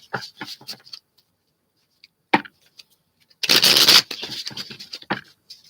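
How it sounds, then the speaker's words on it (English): Tarot cards are shuffled by hand in short riffles and taps, a quiet gap, then a dense half-second burst of riffling followed by more scattered card clicks, close to the listener. "Let me just get a little shuffle in here."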